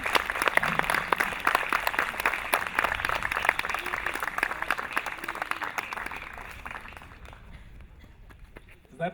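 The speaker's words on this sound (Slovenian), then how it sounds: "tako da lepo prosim, še en aplavz." Sustained audience applause at an outdoor music festival in a garden, dense clapping from a crowd that gradually thins and fades toward the end, with a few scattered claps remaining.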